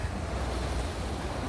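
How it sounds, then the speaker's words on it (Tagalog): Ocean surf at the Stanley waterfront in Hong Kong rolls in as a steady, loud wash of waves, mixed with wind buffeting the microphone, with no talking. "Naririnig na ba yung alon?"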